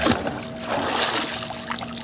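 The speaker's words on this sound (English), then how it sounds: "When I do this, lots of little bubbles come up. The bubbles come up, and that is called outgassing or aeration." Swimming pool water stirred by hand, a steady close trickling and sloshing as small bubbles rise through aeration, with no talk.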